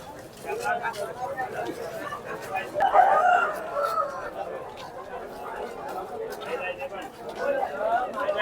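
Roosters crow and hens cluck amid people chatting at a busy, crowded poultry market in Gokavaram, with the birds mixed under the voices.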